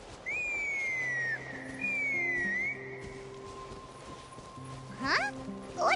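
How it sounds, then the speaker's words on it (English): A video game character whistles a bright, melodic tune in several rising and sliding phrases over a soft game-music backdrop, followed by a few quick chirpy notes near the end. "That's her whistling."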